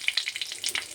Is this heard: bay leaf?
yes